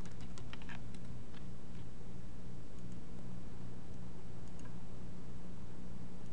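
Keystrokes from a computer keyboard as a root password is typed during a software installation, a short burst of faint, quick clicks at the start and a few scattered taps later over a steady low hum.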